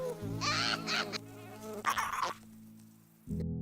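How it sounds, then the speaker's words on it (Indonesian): Flies buzz around a beetle in short, close, whining bursts, then fall quiet before a low hum returns. "Di perjalanan ia melihat kumbang lain yang sedang diganggu oleh para lalat."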